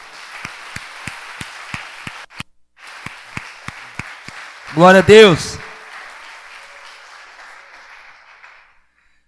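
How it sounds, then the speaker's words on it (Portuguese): Church congregation bursting into a short, loud round of applause after rhythmic claps, with a voice speaking over it before the clapping fades out. "Você pode aplaudir ele mais uma vez?"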